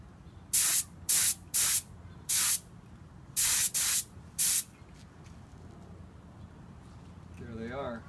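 Seven short bursts of aerosol spray paint hissing loudly in quick pairs and singles while painting a gun muzzle brake, then a faint voice begins speaking near the end.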